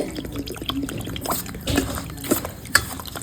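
Water poured over semolina in a bowl for Bengali malpua pitha batter, a soft uneven trickle and splash with small drips, close by and moderately quiet, no talking.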